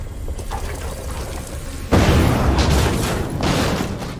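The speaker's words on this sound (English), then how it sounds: "They were dangerously close to that explosion" A large explosion erupts during a Resident Evil 2 Remake boss battle, a sudden loud broadband blast that hits about two seconds in and stays heavy, with a second surge of rumbling debris near the end.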